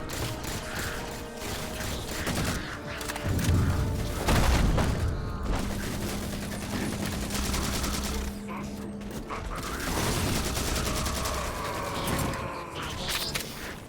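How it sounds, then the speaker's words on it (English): Pistol gunfire in Halo 4, the video game, cracking out in repeated shots amid a dense mix of game explosions, mechanical clanks and effects, loud and continuous throughout. "Oh my God, the pistol. It sounds and feels so good."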